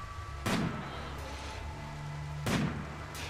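Two heavy, booming gunshots from the video game RimWorld, about two seconds apart, each with a short decaying tail over a steady low background hum.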